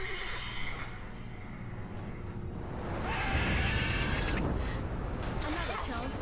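A mare in The Witcher 3: Wild Hunt neighs in a loud, wavering whinny near the start, followed by game background noise, a creak and faint movement as the sound swells slightly toward the end.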